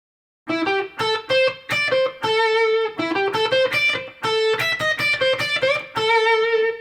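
A short electric guitar lick, a run of clear picked notes with slight bends and a touch of grit, played alone at moderate volume.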